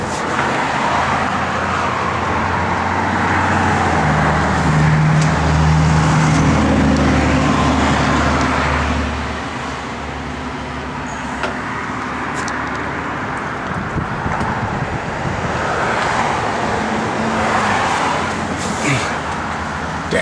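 A 1970 Chevrolet Nova SS with a V8 idles steadily nearby in a low rumble, its pitch dipping slightly partway through, with wind and faint outdoor background noise around it.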